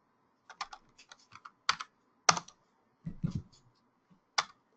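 A name typed on a computer keyboard: scattered bursts of crisp key clicks in quick clusters with short pauses, close and fairly quiet, no talking.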